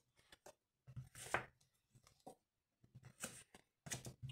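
Tarot cards are shuffled by hand in quick bursts of crisp riffling and soft slapping, with short pauses between rounds, close and fairly quiet.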